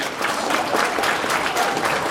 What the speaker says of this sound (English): let's give a round of applause to all these student